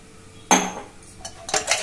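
A spoon clanks against a metal bowl while masala is mixed into water for cooker chicken, with one sharp knock followed by lighter scraping and a cluster of clinks near the end.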